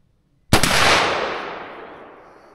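A single sharp .357 Magnum gunshot fired outdoors, loud and close, with a long decaying echo trailing off over about two seconds.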